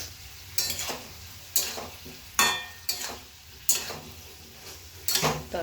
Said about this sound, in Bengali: এবার টমেটো কুচি, কাঁচা লঙ্কা চেরা আর আদা কুচিটা দিয়ে দিলাম।